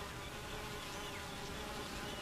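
Honey bees buzz steadily at the hive, a dense, continuous hum with no breaks, heard close and alone.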